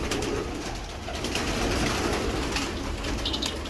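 Pigeons in a loft coo continuously at moderate volume, with several birds overlapping in a soft, throaty murmur that stays fairly even throughout.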